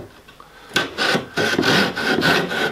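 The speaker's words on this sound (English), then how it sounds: "Why? Because it's a saw." Hand saw cutting through wood, quiet at first and then about six rhythmic rasping strokes, close and fairly loud, each push a gritty burst.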